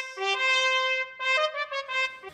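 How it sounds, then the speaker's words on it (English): Solo trumpet playing a short phrase: a long held note, a pause, then several quicker detached notes, bright and close, with no other instruments or voices. "just one player, like a trumpet player, would sound like this"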